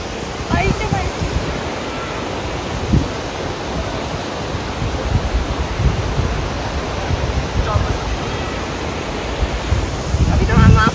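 Jogni Waterfall near Manali in Himachal rushes in a steady, dense roar close by, with gusty wind buffeting the microphone and bursts of spray noise throughout.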